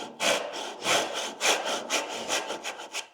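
A dozuki back saw cuts through wood in quick, rhythmic push-pull strokes, about a dozen close and clear rasping passes with nothing else heard.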